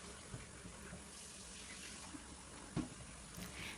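Water runs steadily from a kitchen tap as shrimp are rinsed under it, a soft continuous splashing with a brief clunk partway through.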